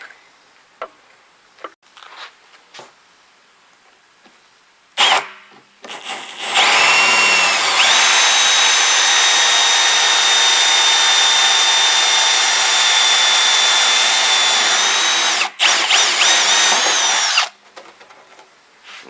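A power drill cuts a 40 millimeter hole, opening with a few knocks and clicks, then a loud steady whine for about ten seconds with a brief dip before it stops, close and alone.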